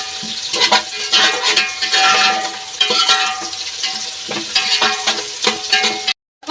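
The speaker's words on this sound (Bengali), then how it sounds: "পেঁয়াজটা আমার বেশ লাল লাল করে ভাজা হয়ে গিয়েছে" Sliced onions fry for chicken biryani in a pan. A steady sizzle runs under repeated scraping strokes of a spatula stirring against the metal, then cuts off abruptly near the end.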